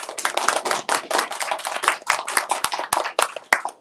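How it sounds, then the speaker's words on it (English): A school assembly audience applauds a student called up front, a dense, steady patter of many hands clapping close and loud throughout, with irregular sharp claps standing out. "You guys, let's give him a big round of applause"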